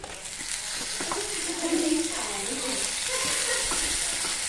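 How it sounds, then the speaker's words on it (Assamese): Tomatoes fry in a pan for shahi paneer, giving a loud, steady, close sizzle with occasional stirring scrapes throughout. "এতিয়া মই বিলাহীখিনি দিম বিলাহীখিনি দিয়াৰ লগে লগে অলপ সময় সিজাম বিলাহীখিনিক"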